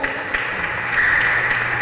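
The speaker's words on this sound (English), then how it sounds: "let's give ourselves a big round of applause" A congregation at a Roman Catholic Sunday Mass applauds, a short burst of steady, even clapping filling the church.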